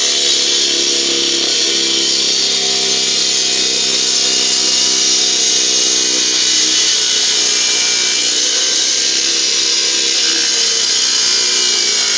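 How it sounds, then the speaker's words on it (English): A battery-powered Cramer PC350 disc cutter whines steadily and loudly at full speed, grinding continuously through concrete with water feed, without a break. "this high-performance battery-powered disc cutter delivers serious cutting capability"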